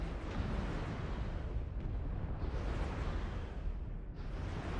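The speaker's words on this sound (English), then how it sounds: "Airstrike." An airstrike in a video game erupts as a continuous, loud, broadband explosive roar and rumble that fills the whole moment with no break.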